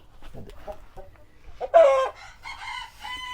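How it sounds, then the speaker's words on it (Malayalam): A Light Columbian Brahma hen clucks close by in short bursts, then lets out a louder drawn-out squawk, more clucking trailing after. "ഇതിൻ്റെ പേര് ബ്രഹ്മ ലൈറ്റ് കൊളംബിയൻ ബ്രഹ്മ എന്ന് പറയും"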